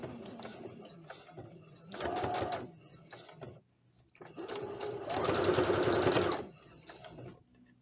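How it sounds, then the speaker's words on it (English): Sewing machine stitching back and forth at the start of a seam on a top made from pants, with a short burst followed by a longer humming run, close by. "Back and forth stitch in the beginning."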